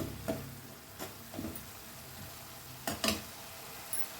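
Ginger garlic paste fries in masala with a soft, steady sizzle, broken by a few sharp scraping stirs of a spoon against the pan, fairly quiet and close.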